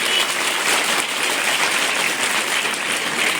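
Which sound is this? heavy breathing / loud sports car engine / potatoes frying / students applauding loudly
students applauding loudly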